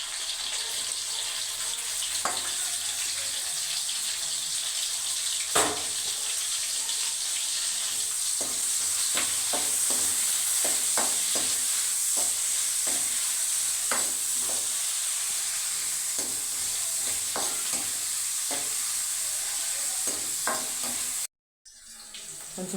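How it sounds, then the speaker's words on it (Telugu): Onions and green chillies fry in hot oil for a gonguura fish masala curry, a steady close sizzle broken by sharp stirring clacks of a spoon against the pan, continuous with no talking until a brief gap at the end. "ఆయిల్ వేడెక్కాక ఉల్లిపాయలు వేసుకున్నాం"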